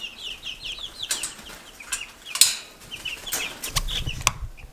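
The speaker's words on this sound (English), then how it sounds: "Hello, baby chickens." Young chickens that have grown from fluffy chicks into gangly juveniles, giving repeated high peeps and chirpy clucks in short bursts, close by, with a few soft wing flaps and rustles and no talking.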